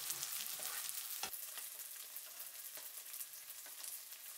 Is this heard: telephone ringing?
no